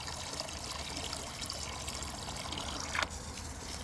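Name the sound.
water trickling out of a hole in a bucket waterer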